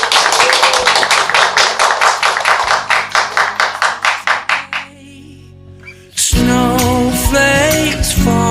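An audience applauds at a film screening, starting as sharp rhythmic unison claps that quicken and fade, a brief lull, then music swells in.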